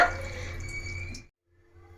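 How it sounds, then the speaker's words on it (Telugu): Cool water runs into drained boiled noodles for Schezwan noodles, a steady close splashing and trickling stream that stops abruptly after about a second, leaving faint kitchen noise. "ఇలా షిఫ్ట్ చేసేసుకున్నాక కొన్ని కూల్ వాటర్ యాడ్ చేసుకోవాలి, ఇంకా ఓవర్గా కుక్ అవ్వకుండా ఉంటాయన్నమాట"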